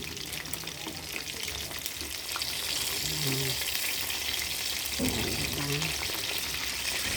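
Chicken sizzles in hot oil in a frying pan, a constant crackling fry with brief clatters and scrapes as pieces are turned over, close and loud with no talk.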